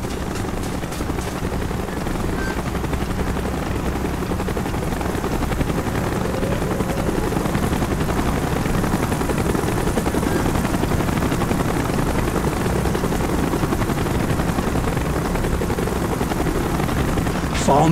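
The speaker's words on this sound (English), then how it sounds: "Chopper's inbound." A helicopter arrives in a military video game at a Soviet missile base, its loud, dense rotor roar filling the whole stretch steadily and growing slightly toward the end.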